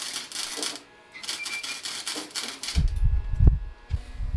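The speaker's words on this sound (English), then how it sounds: "He's going to attempt to weld. This welder's excellent." A welder lays down a weld on a functional vent, crackling in a few steady broadband bursts for about three seconds, then gives way to low thumping and handling noise.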